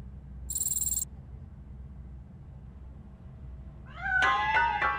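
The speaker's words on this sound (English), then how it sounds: "That cat must be hiding inside." A cat in the RoboCop: Rogue City video game meows from hiding inside a piano, a couple of short bright cries near the end after a brief high chirp, over a low steady ambient hum with no talking.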